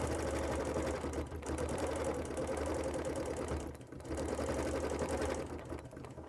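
A sewing machine stitches steadily while free-motion quilting a gentle curve, a loud continuous whirring run that dips briefly near the end of the stretch.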